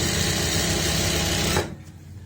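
Sewing machine stitching lined pants, a fast steady motor whir with rapid needle rhythm running loud and close, then stopping abruptly.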